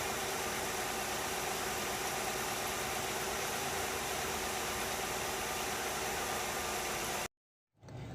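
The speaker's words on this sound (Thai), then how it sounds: "เครื่องยนต์เดินนิ่งเรียบนะครับ" A 2002 Nissan Cefiro A33 with a 2.0 engine and automatic transmission idles with a smooth, even hum and steady background noise, then cuts off abruptly near the end.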